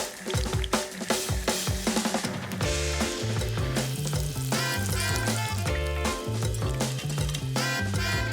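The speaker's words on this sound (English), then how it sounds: "In the meantime, I might cook another one of these delicious mushrooms." Breaded mushroom frying in a pan for a katsu sandwich, a steady sizzle running under loud background music throughout.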